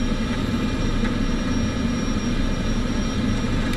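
Aircraft engines spool up in Microsoft Flight Simulator 2024, a steady, dense roar with a high whine held at constant loudness throughout.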